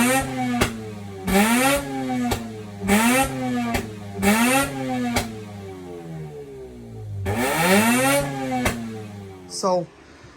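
A Mazda RX-8 rotary engine, running with its mass airflow sensor disconnected, is blipped through a series of sharp revs that rise and fall. It then gives one longer, stumbling rev and dies out near the end.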